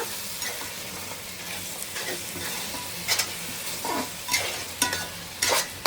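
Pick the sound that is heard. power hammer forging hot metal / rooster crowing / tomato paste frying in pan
tomato paste frying in pan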